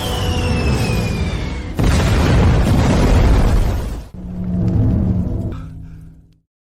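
Missile exploding in a naval battle, a loud booming blast with a roaring rumble that swells, cuts off, then rolls on again before fading out.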